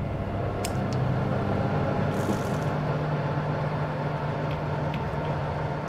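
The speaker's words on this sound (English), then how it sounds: "That oven is loud as hell" An oven in the horror game Fears to Fathom: Home Alone gives off a loud, steady, low droning rumble like an idling truck, with a few faint clicks over the constant hum.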